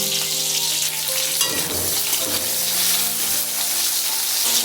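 Slit green and ripe chillies frying in a pan of spiced masala water, a steady broadband sizzle running throughout with a few stirring scrapes midway, close and fairly loud.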